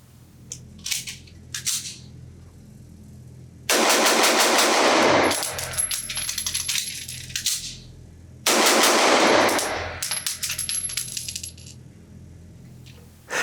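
An Atlas Gunworks Nyx, a 2011-style double-stack pistol, fires two rapid strings of loud, close shots at an outdoor range, separated by a pause, with metallic clinks of spent brass around them.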